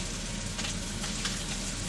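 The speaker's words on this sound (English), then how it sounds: "So the first thing I do is I throw in my onions first" Chopped onions hit a hot pan for Cajun pork jambalaya and hiss in a steady, close sizzle with faint crackles, no voices over it.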